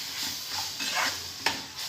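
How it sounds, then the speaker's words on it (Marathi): A grated ingredient sautés in ghee in a pan for sheera, giving a close, steady sizzle with soft stirring swishes. One sharp clink of a spoon sounds near the end. "तुपात अशी परतून घ्यायची"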